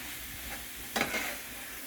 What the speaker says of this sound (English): Just keep it stirred. And that'll keep your onions and garlic from burning while you're cooking.